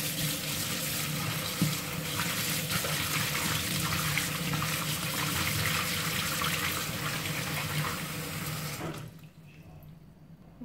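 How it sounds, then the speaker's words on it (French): Cold tap water runs steadily into a sink while fresh mint is washed, a loud continuous gush lasting about nine seconds that then cuts off, leaving faint room sound. "Et là, je lave bien ma menthe."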